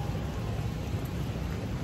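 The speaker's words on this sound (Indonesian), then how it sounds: "udan mulai, wis pokoknya seminggu ini guys, seminggu ini Jakarta itu hujan terus." Steady rain falls in Jakarta, a dense even hiss with low rumble, continuous and fairly loud, with no voices over it.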